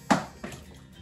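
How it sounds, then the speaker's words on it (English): Sweet potatoes dropped by hand into a pot already holding water give a sharp close splash, then a smaller second splash a moment later, with no talking. "Oh, splashing."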